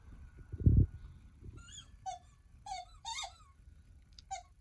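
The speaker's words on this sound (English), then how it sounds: "Yes, give me the squeaky." A dog works a squeaky toy, producing a run of sharp, high squeaks in quick bursts after a soft thump near the start, heard up close in a quiet room.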